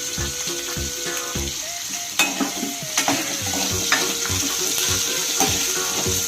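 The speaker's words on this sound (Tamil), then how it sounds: "இது நல்லா வதங்கட்டும். வதங்க பார்க்கலாம். முள்ளங்கி வதங்கிச்சான்னு பார்க்கலாம்." Radish and other vegetables sauté in a pan, giving a continuous sizzle broken by repeated scraping stirs and a few metallic knocks of a utensil against the pan.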